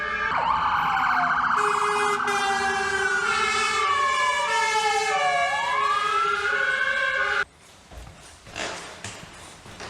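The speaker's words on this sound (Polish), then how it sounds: "No to już trzecia straż jedzie, a za nią chyba czwarta." Fire engine siren passing close on a Wrocław street, a loud wailing tone sweeping down and back up for several seconds before cutting off abruptly, leaving quieter street noise.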